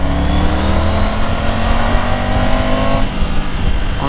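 A Triumph Tiger 900 motorcycle engine drones steadily and close in second gear, its pitch climbing under throttle, then dipping and rising again near the end.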